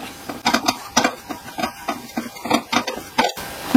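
A quarter cup of grated coconut roasts in a little ghee for a sweet aval prasadam, stirred close up with a brisk run of rhythmic scraping strokes over a faint sizzle.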